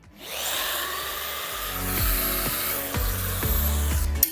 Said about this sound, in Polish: I wykonuję pierwszy otwór